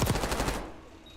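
Rapid burst of automatic gunfire in a video game, about eight quick rhythmic shots lasting half a second, then cutting off to quiet background.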